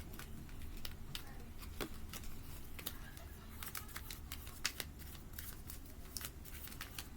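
A deck of cards being shuffled, a series of quiet crisp riffling snaps and clicks scattered through a faint, hushed background.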